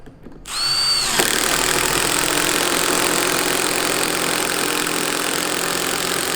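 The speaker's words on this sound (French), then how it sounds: "Je viens mettre le dernier élément et je viens visser de la même manière." A power driver whirs steadily and loudly at close range, screwing a wooden wall element into place on a chalet kit, with no talk.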